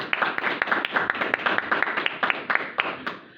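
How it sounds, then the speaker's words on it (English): Audience at a community panel on North Carolina CBD and marijuana laws claps for the panel, a dense round of close, sharp handclaps lasting a few seconds and tapering off at the end. "please give a round of applause."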